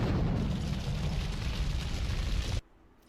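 A grenade explodes in a video game, a loud sustained roaring blast lasting a couple of seconds before cutting off abruptly to near silence.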